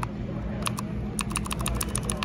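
Fingers typing on a very clicky mechanical keyboard on display in a store, sharp rapid key clicks in quick bursts over a low background hum of the shop.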